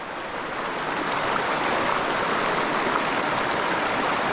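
Rushing river rapids pour steadily as a broad, continuous roar of water, close and loud, with no other sounds breaking through.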